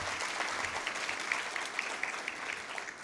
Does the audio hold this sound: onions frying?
no